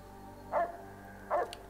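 Dogs in the video game Fallout New Vegas give two short barks or yips nearly a second apart, moderately loud over a steady low game-ambience hum, with no voices.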